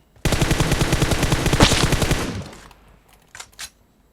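A burst of rapid automatic gunfire in PUBG Mobile rattles out loud and close for about two seconds, then tails off, followed by a couple of short, sharp mechanical clicks and knocks.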